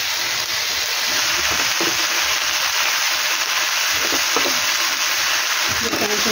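Poppy seed paste mixed with ginger and green chilli hits a hot pan, giving a steady loud sizzle and hiss with soft stirring scrapes throughout.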